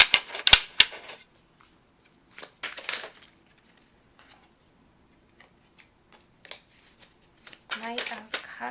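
Tarot cards shuffled by hand in quick riffling bursts, a loud flurry at the start, scattered soft flicks and taps in the middle, and another dense burst of shuffling at the end, with no talking.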